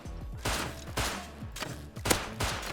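Gunfire in the survival video game Rust during a raid defence, rapid bursts of shots about every half second, loud and close with sharp repeated cracks, no talk.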